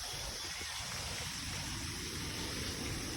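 Steady broadband rush of flowing water from a heavy outdoor stream or torrent, continuous and fairly close with no break across the stretch.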